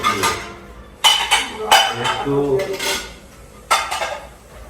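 Plates and cutlery clatter and clink as dishes are handled and washed in a home kitchen, with sharp close knocks in irregular bursts and someone speaking briefly among them.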